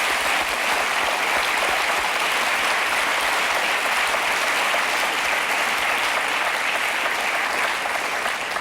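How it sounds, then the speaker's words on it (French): A studio audience at a French TV talk show breaks into sustained, dense applause, a loud, even wash of clapping that holds steady throughout. "on s'applaudit, ça"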